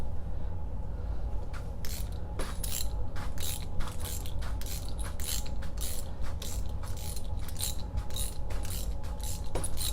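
A 5/8 wrench ratchet loosens a bolt on an archery bow, giving rapid, close, repeated clicking pawl strokes in irregular bursts over a faint background hum.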